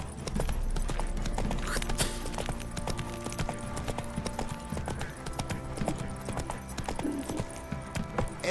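Hooves of the horse Roach in the video game The Witcher 3, a steady, fairly close clip-clop of trotting steps on firm ground, continuous and rhythmic throughout.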